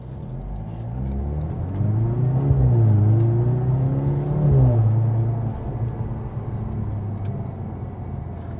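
A Mercedes-AMG C43 heard from inside, its engine note rising as it accelerates, peaking mid-clip, easing off and then holding a steady hum with road noise.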